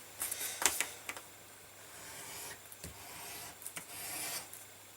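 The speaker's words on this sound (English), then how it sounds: "now we're just trimming the edges so they're all nice and neat" Leather belt keeper edges being trimmed and worked, giving a close, dry rasping and rubbing with a few sharper scraping strokes, no talk.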